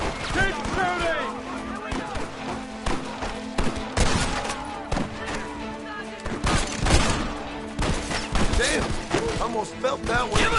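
Shootout in Red Dead Redemption with dense, rapid gunfire cracking from several guns, shots overlapping in irregular volleys amid impacts and clatter, while voices shout over the fighting.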